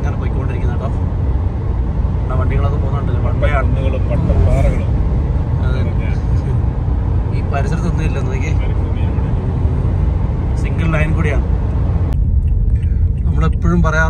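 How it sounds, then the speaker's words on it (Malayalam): Vehicles rumble past on a desert highway between Al Safwa and Riyadh in Saudi Arabia, a steady road roar and engine drone heard from inside a moving car, with people talking throughout. "വണ്ടികളൊക്കെ പോകുന്നുണ്ടല്ലോ"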